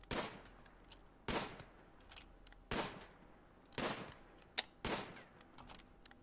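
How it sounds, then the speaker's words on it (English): Gunfire in Rimworld as a colony character shoots while hunting animals, five or six sharp, evenly spaced single shots with short tails, alone and fairly quiet. "Sissy's shooting again."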